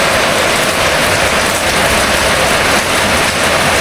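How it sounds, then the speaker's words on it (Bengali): Heavy monsoon rain pours steadily onto a flooded veranda and yard, a dense, continuous hiss and patter that stays loud and unbroken throughout with no voices. "আর যে জোরে জোরে বৃষ্টি হচ্ছে"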